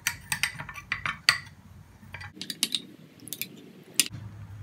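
A small mixing of apple cider vinegar and turmeric for a homemade skin formula: sharp, irregular clinks and taps of a utensil against a container, close and clear, with quiet pauses between bursts and no talking.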